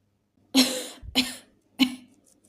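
Three separate coughs, close and fairly loud, the first longest, the others shorter, with brief pauses between them.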